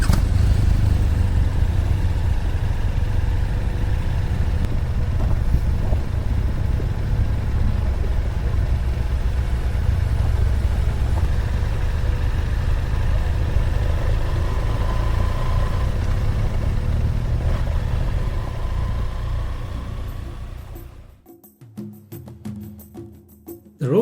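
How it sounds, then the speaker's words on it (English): Motorcycles idle together with a steady, loud low rumble that holds for about twenty seconds before cutting away, heard outdoors before a ride in Botswana. "We are excited to rev up the motorcycles"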